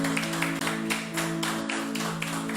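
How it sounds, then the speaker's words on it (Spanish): A church congregation applauds the Lord, with rhythmic clapping over a sustained musical tone that continues throughout. "Démosle un aplauso al Señor."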